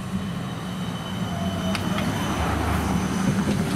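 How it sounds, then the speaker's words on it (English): A tram passes the Glenferrie Road level crossing in Kooyong, Victoria, giving a steady, fairly loud low rumble of wheels on rail with a few brief metallic squeals and clanks along the way, and no talking. "here's a tram."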